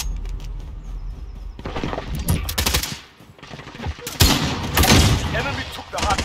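Automatic gunfire in Call of Duty: Warzone, rapid bursts of loud shots in two clusters separated by a brief lull, with game sounds and a voice present.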